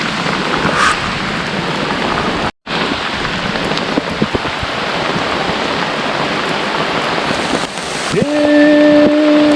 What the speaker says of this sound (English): I'm camping in the rain